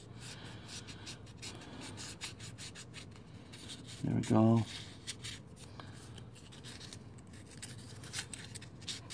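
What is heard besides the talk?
sanding aluminum GY6 crankcase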